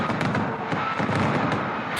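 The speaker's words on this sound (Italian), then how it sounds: "Sant'Agata si affaccia su Piazza Duomo, salutata da un tripudio di applausi e fuochi d'artificio." Dense fireworks crackle and boom continuously in Piazza Duomo as the Saint Agatha procession statue appears, a loud, rapid barrage mixed with crowd noise.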